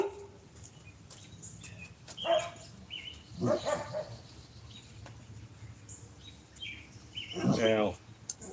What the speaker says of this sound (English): Cole, you're barking at the other dog, of course.